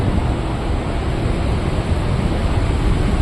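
Cool air from an air conditioner rushes out of a large duct in a building in Medina, a loud, steady, close roar of blowing air without pauses or voices.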